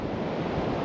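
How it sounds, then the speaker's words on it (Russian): Sea waves breaking on a beach at Ayia Napa, a continuous broad wash of surf mixed with wind rumble on the microphone, loud and steady with no distinct individual breaks. "волны здесь тоже побольше"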